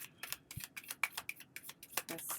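Rapid papery clicks and riffles of tarot cards being shuffled, several quick bursts in a row, close and fairly quiet.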